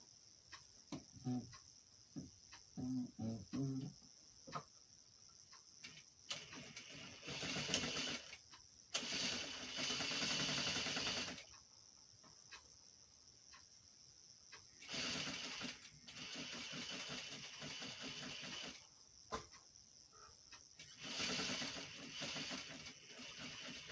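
Sewing machine running a 5/8 inch seam while making boxer shorts, in several whirring stretches of steady stitching separated by pauses, with faint mechanical clicks between runs.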